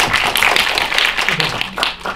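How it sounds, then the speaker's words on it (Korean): Audience applause at a Korean film premiere Q&A for the film Dustman, a dense wash of many hands clapping throughout, with some voices mixed in. "박수 쳐주세요"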